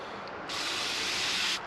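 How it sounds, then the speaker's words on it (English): A continuous hiss of fine mist from the trigger nozzle of a Turtle Wax Hybrid Solutions Mist interior detailer spray bottle, about one second long, starting and stopping abruptly, close by. "it does a little continuous spray"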